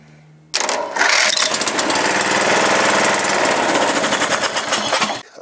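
A Huskee small engine fires up abruptly and settles into a loud, steady running roar that holds for several seconds before cutting off near the end, with no talking.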